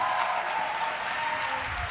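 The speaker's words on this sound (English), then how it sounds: "Give them another round of applause." Audience applause at an evening movement-building conversation event, a steady wash of clapping heard alone at moderate level for a couple of seconds.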